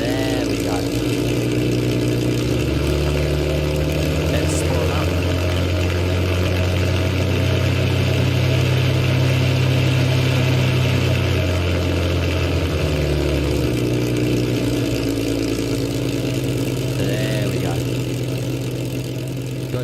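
Merlin 66 engine of a Spitfire Mk IX in X-Plane 11 runs steadily at a low, droning idle with a deep rumbling tone, loud and continuous, with faint speech at times underneath.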